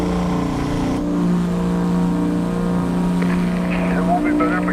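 A truck engine drones steadily and heavily while pulling a 20-ton load in American Truck Simulator, a low constant hum with a 3.5 rear ratio and a 385 engine, with a short tonal shift near the end.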